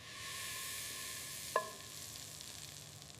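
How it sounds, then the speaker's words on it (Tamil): Small pieces of butter melt over low heat in a pan for homemade ghee, giving a soft, steady sizzle with a single sharp metallic clink midway, fairly quiet and without talk. "இப்போ வெண்ணெயை குறைந்த தீயில் வச்சு மெதுவாக உருக்க ஆரம்பிக்கலாம்."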